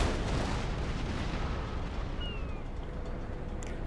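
Ship cannons in a Napoleon-era naval battle from a strategy game, heard as a dense, loud, continuous roar of booming fire with a faint whistle passing overhead.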